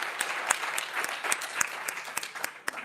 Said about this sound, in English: Let's give another proper round of applause to the presenter.